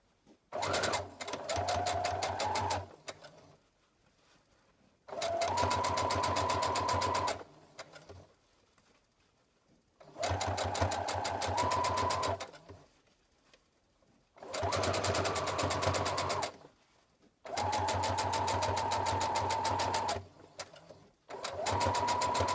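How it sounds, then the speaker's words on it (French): A domestic sewing machine topstitches a dress lining 2 mm from the edge in five separate bursts of fast, even whirring, each a couple of seconds long, with quiet pauses between and no talking. "vous couchez les valeurs de couture du côté de la doublure et vous venez surpiquer à 2 mm du bord"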